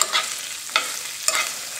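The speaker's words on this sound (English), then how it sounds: "You got that nice sizzle." Garlic and kale frying in oil in a pan, a soft steady sizzle with brief stirring scrapes, close and alone without any talk.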